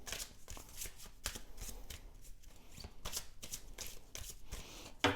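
Tarot cards being shuffled close up, a run of quick riffling and slapping bursts in an irregular rhythm, fairly quiet.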